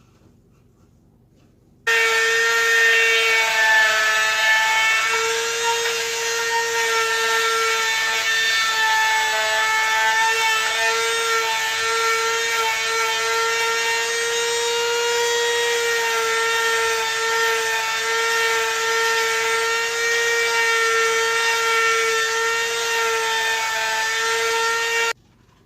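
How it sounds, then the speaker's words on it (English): A Dremel rotary tool grinding on a coyote skull, a high steady whine with strong harmonic tones that starts abruptly and runs constantly for over twenty seconds, then stops. "So it looks like I got a Dremel."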